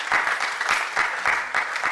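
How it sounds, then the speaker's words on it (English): Audience applauding student presenters at an event, dense rhythmic clapping in regular bursts, close and fairly loud with no voices over it. "A round of applause to them."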